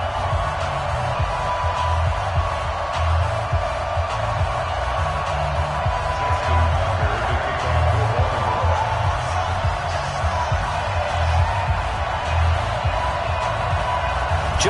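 Steady crowd roar filling a football stadium in a PS4 game, Baltimore Ravens fans at M&T Bank Stadium before kickoff against the Cincinnati Bengals, a continuous dense wash of cheering at constant loudness with no distinct voices.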